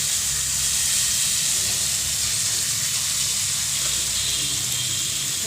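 Hot oil sizzles steadily in a pan, readied for frying onion, garlic and ginger masala for a mutton-style curry; a loud, continuous hiss with no voices.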